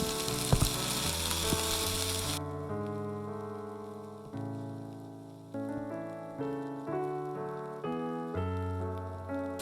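Vegetables, including onions, sizzle loudly as they heat in a pan for an oats pizza. The dense frying hiss is strongest in the first couple of seconds, then continues beneath steady background music.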